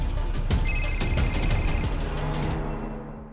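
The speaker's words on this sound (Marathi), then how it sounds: "तुला का आलाय फोन?" A telephone rings briefly, with a thin electronic trill partly buried under a dense, noisy background.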